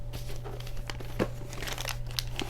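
Brown grocery-bag style wrapping paper crinkles and rustles steadily as a package is unwrapped, close and continuous with a few sharper crackles, no voices.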